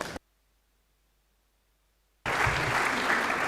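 Applause at a Leeds City Council full meeting bursts in after a brief silence, a dense sustained clapping from many people in the chamber.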